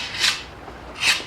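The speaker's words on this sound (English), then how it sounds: "the adhesive and then I can just scrape it all off" A scraper drags across a surface to lift off old adhesive, making two separate, close, gritty rasping strokes with a short pause between them.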